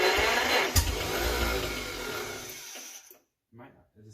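A John Deere M tractor engine runs loud and close with a steady, broadband mechanical roar and a sharp knock early on. It cuts out near the end, leaving brief voices in the quiet.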